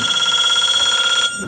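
A telephone bell rings loudly in a restaurant, a rapid, continuous metallic trill that stops abruptly near the end.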